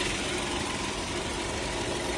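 A 2012 Hyundai Grandeur HG with a 3.0-litre petrol engine and about 115,000 km idles with a steady, even hum heard up close. The level stays constant and no one speaks.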